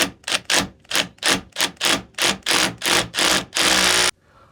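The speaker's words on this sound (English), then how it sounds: "now I've got my masonry drill, and this is a 6mm" 6mm masonry drill boring into brick in a basement, a series of about ten short, loud bursts in a regular rhythm, ending in one longer sustained burst before going quiet.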